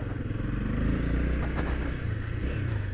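Honda CB300 motorcycle engine running while riding through a street, a close, steady low rumble with pulsing thump and faint rattles from the ride, with no talk over it.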